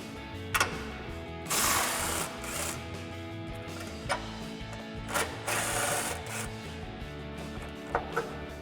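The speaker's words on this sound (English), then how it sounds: "we're gonna grab our impact and an 18mm socket and take them off." An impact wrench with an 18mm socket removes bolts on a RAM 1500 in two sustained, buzzing bursts, with short knocks and clinks of tools in between, heard nearby without speech.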